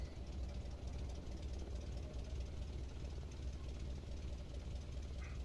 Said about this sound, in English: Let the engine idle there.